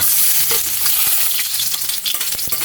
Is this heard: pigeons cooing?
no